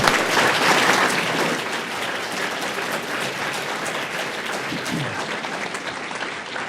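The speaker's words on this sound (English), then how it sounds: "How about a round of applause for our students?" A crowd applauds students at a city school committee meeting in a city hall, dense sustained clapping that starts loud and tapers slightly over several seconds, with faint voices mixed in.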